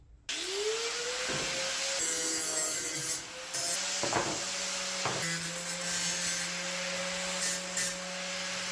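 A grinder fitted with a sanding disc hums at a steady pitch while smoothing the cut edges of old skis, with scraping bursts as the disc meets the edge, close and loud, no talk.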